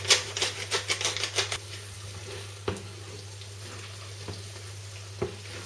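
Fritada stew stirred in a frying pan: a quick run of scraping, sizzling strokes at the start, then steady frying hiss with a few isolated clinks and knocks, close and moderately loud with a low steady hum beneath.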